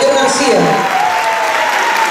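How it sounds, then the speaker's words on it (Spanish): An audience at a tribute ceremony breaks into loud, dense applause for a doctor entering the room, a continuous wash of clapping with a voice faintly audible beneath it. "fuerte los aplausos para él"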